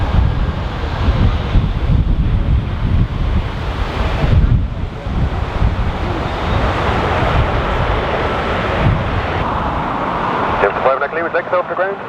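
Strong gusty wind at Dublin Airport roars and buffets loudly and continuously, booming low against the microphone.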